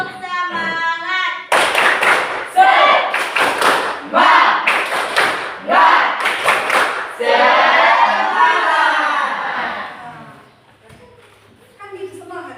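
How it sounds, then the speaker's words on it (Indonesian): A classroom of students claps together in a rhythmic spirit-clapping chant, several bursts of patterned claps with voices chanting along, loud and close in a room. "Tepuk semangat."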